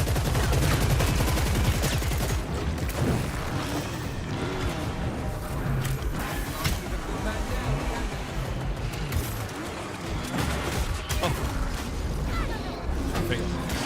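Gunfire rattles in dense bursts through a video game execution, with explosions booming among the shots in a loud, continuous barrage, and a voice talks over it.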